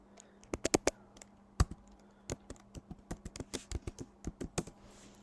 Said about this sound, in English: typing your password.